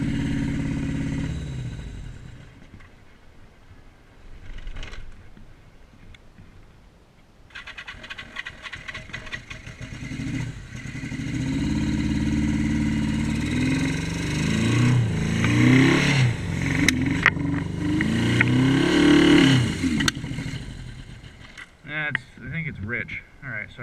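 A Yamaha XS1100 cafe racer engine with Speeduino fuel injection runs rich, idling roughly and rising into uneven revs that swell and sag over about twenty seconds; no speech accompanies it.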